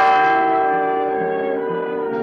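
A single large church bell rings out loudly, its rich humming tone slowly fading as it sustains.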